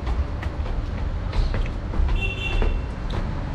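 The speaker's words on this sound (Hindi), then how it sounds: "देखिए आ रही है ट्रेन की आवाज़" A train nearing a railway station at Lajpat Nagar in Delhi, a low continuous rumble with faint squeals and clanks over a few seconds, no speech.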